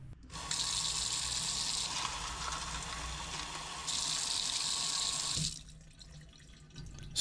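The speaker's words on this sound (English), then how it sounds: "And then I fill up the rest of the cup with tap water." Tap water pours steadily into a cup holding a little mask-preparation powder, a continuous splashing rush that briefly eases midway and stops near the end, close and alone without speech.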